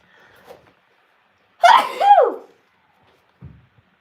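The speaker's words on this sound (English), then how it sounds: "I think I'm going to sneeze." A single sharp sneeze bursts out, preceded by a faint breathy intake and followed by a short quiet sound, otherwise near silence.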